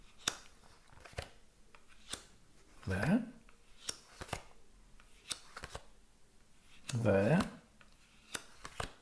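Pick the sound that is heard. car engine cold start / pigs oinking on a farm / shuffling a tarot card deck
shuffling a tarot card deck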